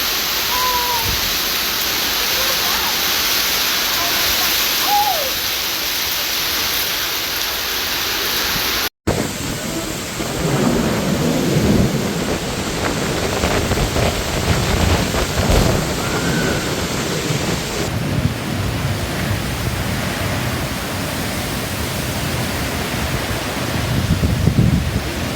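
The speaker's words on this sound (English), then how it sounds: "Severe storms battered Sydney, New South Wales, and Canberra overnight" Severe overnight thunderstorm over Sydney with heavy rain pouring in a steady, loud roar, briefly cut off partway through, then continuing as dense close downpour with wind.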